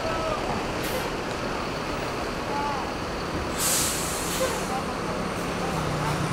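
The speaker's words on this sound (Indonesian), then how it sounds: "Bus ANS masuk." An ANS intercity bus pulls into the busy Kampung Rambutan bus terminal in Jakarta, its air brakes giving two sharp hisses over a constant roar of engines and crowd noise.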